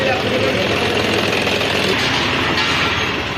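A parked farm tractor's diesel engine runs steadily at idle, a continuous low rumble with knocking texture filling the whole stretch at close range.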